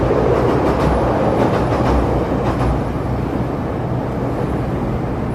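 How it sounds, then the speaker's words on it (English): A train rumbles past on the street in Chicago, loud and close, with a steady clattering roar of rail cars that eases slightly toward the end amid city traffic noise. "There's the train."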